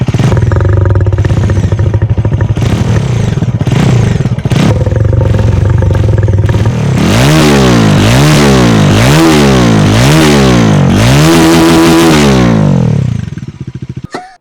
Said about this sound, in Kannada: ಬನ್ನಿ ಇವಾಗ ಈ ಗಾಡಿದು ಎಕ್ಸಾಸ್ಟ್ ನೋಟ್ ಕೇಳಿಸ್ಕೊಳ್ಳೋಣ. ಇದರಲ್ಲಿ ಬರೋದು ಟ್ವಿನ್ ಬ್ಯಾರಲ್ಲು.